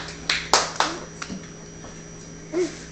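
A young child claps hands in a pat-a-cake game with a few sharp, scattered claps close by, spaced unevenly over a quiet room hum with a faint voice near the end.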